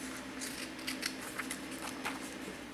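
Scissors snip through paper in a cut-paper project, a series of soft, close, crisp cuts in an uneven rhythm over a steady low room hum.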